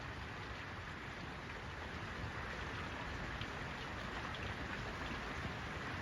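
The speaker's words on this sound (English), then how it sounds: "We get rain, but not like this." Heavy rain falling in Boise, Idaho, a dense, steady roar of drops hitting surfaces that holds evenly throughout, with no voices.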